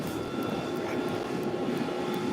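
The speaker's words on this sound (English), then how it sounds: "I'm sorry about the noise. I got to pass this truck." Steady loud roar of road and engine noise while a vehicle overtakes a truck, a continuous broadband rush with no breaks.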